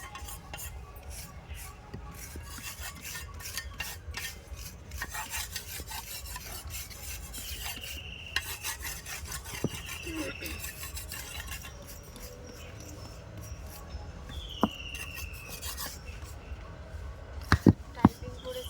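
Wooden pieces are rubbed or sanded by hand during home construction work, a steady, continuous scraping and rasping that runs throughout, close and moderately loud, with occasional knocks and faint voices in the background.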